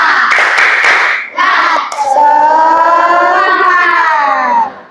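A primary school class does a rhythmic clapping chant as an icebreaker: a quick burst of hand claps, then young voices chanting loudly together in a sustained, sing-song line close by.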